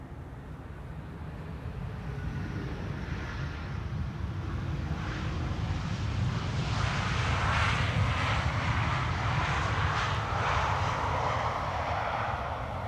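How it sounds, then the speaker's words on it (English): A KLM Embraer 195 E2 jet arriving at Amsterdam Schiphol Airport makes a broad engine roar that builds and peaks near the middle, then holds as the aircraft passes fairly close. "Here we have KLM flight 1772, an E2 Embraer 195, arriving from Berlin"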